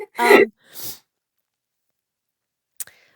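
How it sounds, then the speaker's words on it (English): A single sharp sneeze, a quick inhaled build-up then a burst, followed by a softer breathy release and a faint click a couple of seconds later, otherwise quiet. "I'm going to sneeze"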